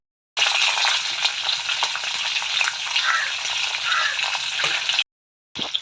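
Slit green chillies, julienned ginger and garlic sautéing in a pan while being stirred, a bright close sizzle with scraping stirs that runs steadily, then stops abruptly before a short burst returns; no talking.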